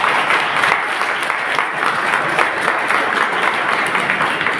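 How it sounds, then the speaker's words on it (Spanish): A crowd applauds steadily at a legends storytelling night in southern Jalisco, dense clapping from many hands sustained throughout without pause. "un aplauso por favor"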